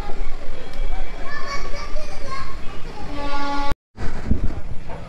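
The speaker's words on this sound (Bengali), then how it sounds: "সেই 9টা 25-এই কিন্তু আমাদের গাড়ি ছেড়ে দিয়েছে" Shalimar–Puri special train 02839 pulling out of the station: a loud rumble with a sustained horn-like tone blends with busy children's chatter and voices, then breaks off in a brief dropout before the noise resumes.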